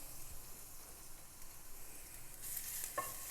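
Crushed garlic frying in a teaspoon of oil in a pan, a soft steady sizzle and stirring hiss that brightens near the end, faint and with no talk.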